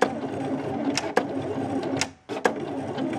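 A Silhouette Cameo cutting machine cuts a cardstock snowflake, giving a steady mechanical whir with a few sharp clicks and a brief dip as the carriage pauses.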